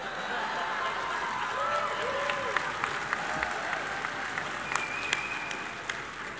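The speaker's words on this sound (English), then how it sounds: "I just wanted some applause" Audience applause at a convention forum forms a continuous, moderately loud wash of clapping, with a voice speaking over it the whole time.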